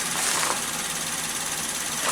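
A Nissan Pixo three-cylinder engine idling, close and steady, with a constant mechanical hum and no talking.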